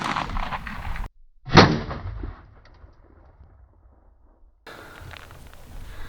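A single sharp, loud 5.7x28 gunshot firing a 40 grain solid copper bullet outdoors, a hard crack followed by a brief decaying echo and quiet afterward.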